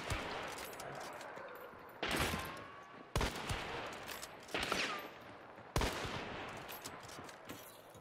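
Shotgun blasts ring out in the Hunt video game, four or five sharp, loud reports spaced a second or so apart, each trailing off in a long echoing decay, with no voices.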